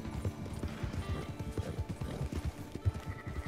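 Horse hooves clip-clopping in Red Dead Redemption 2, a quick, uneven run of close, clear hoof beats, loud and continuous over a short stretch.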